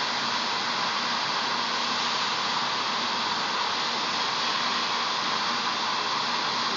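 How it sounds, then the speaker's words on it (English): A hot air welder blows steadily while heating LLDPE plastic and a welding rod together, a constant loud broadband rushing hiss with no breaks. "slowly heating both the product as well as the welding rod up together simultaneously, we stick it down"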